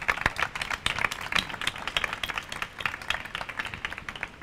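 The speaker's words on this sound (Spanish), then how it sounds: "un aplauso" Small audience at a talk clapping for a speaker, sparse and uneven claps from a handful of people, fairly faint and slightly distant.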